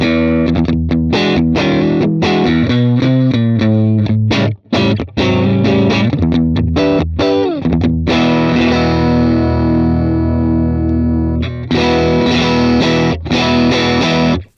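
Electric guitar through a Fractal processor's Vox AC15 amp model, with a high cut turned all the way down, plays crunchy distorted chords and single notes in choppy bursts, loud and close with no voice.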